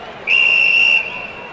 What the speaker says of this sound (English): as the final whistle blew